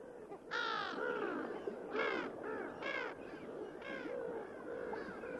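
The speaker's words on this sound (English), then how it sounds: "Brown-headed gulls. They're rather like the familiar black-headed gull" Brown-headed gulls at a high Pamir mountain lake give harsh, nasal calls in a loose series of four or five strident cries, fairly close and loud over a steady outdoor background.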